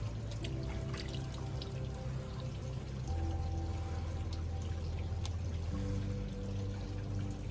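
Water is drawn from a hydroponic pipe system's nutrient solution as a sample for a pH test, a faint steady pouring trickle over a constant background hum, with no talk.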